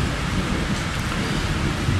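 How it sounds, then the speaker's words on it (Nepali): Heavy rain pours steadily during a lightning storm, a dense, constant roar with low rumbling thunder beneath it, loud and close throughout with no talking. "धन्ना पानी पऱ्यो है अहिले चाहिँ।"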